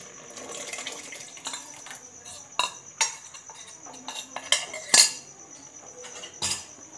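Cooked chana dal stirred into partly cooked rice in a pot for payasa, with a metal spoon scraping and clinking against the vessel in irregular taps, sharper knocks and soft wet churning, close up.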